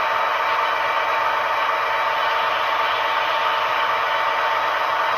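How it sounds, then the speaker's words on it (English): An Athearn Genesis SD70 Norfolk Southern model locomotive with a Tsunami 2 sound decoder, its engine notched up and stuck, giving a continuous, even, loud diesel drone with faint rattle and no pause. "the engine is notched up and they will not notch it back down"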